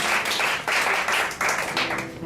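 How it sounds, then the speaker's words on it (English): An audience at an improvised one-woman comedy show claps: steady, moderately loud applause rising and falling in a few short swells, with no voices over it. "That was a very sad applause for yourselves."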